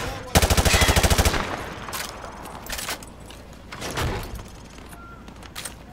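A weapon in Call of Duty: Modern Warfare 2 fires through light cover in one loud, rapid automatic burst of about a second, followed by scattered clanks and shots at a lower level.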